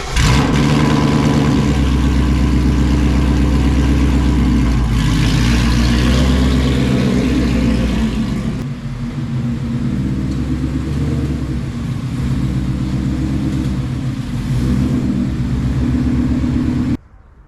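A Roush Mustang's engine runs loud and close, rumbling steadily as the car is moved around, with the level dipping briefly partway through before settling into a steady drone.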